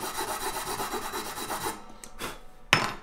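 Nut files rasp back and forth across a guitar's nut slots in a steady run of close scraping strokes, then a pause and two more short, sharper strokes.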